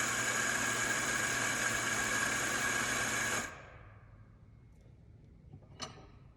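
A home coffee grinder runs steadily, loud and close, grinding an 18-gram dose of espresso beans, then cuts off abruptly after about three seconds, leaving faint room tone and a brief light clink.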